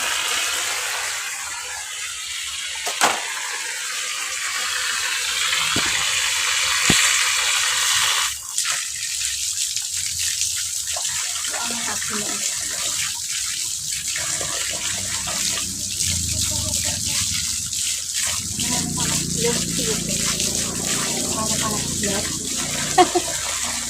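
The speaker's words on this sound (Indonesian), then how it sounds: "Aku tak cuci tangan, guys." Tap water runs steadily while hands are washed at a sink to rinse off pesticide residue after clearing an ant nest, with splashing changing as the hands move, and a voice talks briefly over it.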